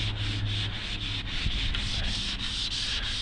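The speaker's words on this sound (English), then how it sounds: "it's sanding out nicely right now." Sanding block rubbed by hand across a car hood being flattened after a paint chip repair, a steady rhythmic scraping of back-and-forth strokes, close up with no talking.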